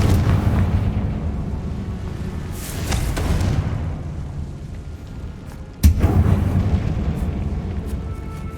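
Spell explosions from the Hogwarts Legacy video game as fire and blasting spells are cast in a tomb, loud rumbling booms with a sharp burst near the end, dense and continuous, no talking.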